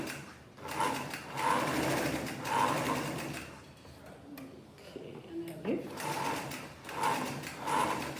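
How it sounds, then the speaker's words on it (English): Domestic sewing machine stitching fabric in bursts, a steady mechanical whir repeating in short runs with pauses between, close up, while an instructor talks over it. "it's important that you practice accurate sewing before you start your garment"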